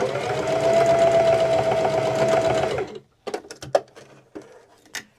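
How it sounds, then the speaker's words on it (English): A sewing machine stitching a boxy bag runs in a steady, close whirring hum for nearly three seconds, then stops, followed by a few scattered clicks and handling knocks. "So we're going to do those couple little stitches here just to keep those threads in place."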